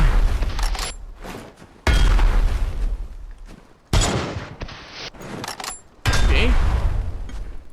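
A rifle in the survival game Dysmantle fires four loud, booming shots spaced about two seconds apart, each decaying into a fading echo, with someone speaking briefly between them.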